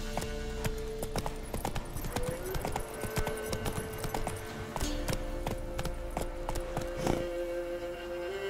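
Roach the horse walks in The Witcher 3, her hooves making a brisk, steady clip-clop close by that runs without a break. Faint tonal game sounds sit underneath.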